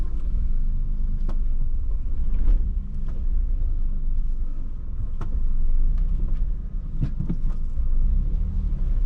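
Low, steady engine rumble from a car parking at night on a road in Malta, close and constant, with a few faint clicks and knocks scattered over the drone.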